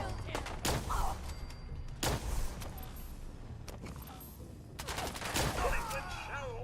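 Gunfire in Fallout 4, a handful of sharp shots and short bursts at irregular intervals over a rumbling game backdrop, moderately loud, with faint voices in the mix.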